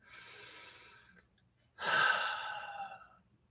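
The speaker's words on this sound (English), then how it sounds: "Take a deep breath." A slow, deep breath drawn in and let out as a long sigh, close and clear, with a short quiet pause between the inhale and the exhale and no talking.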